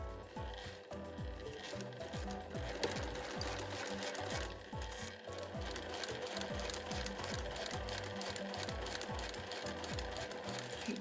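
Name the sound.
sewing machine stitching a 7 mm seam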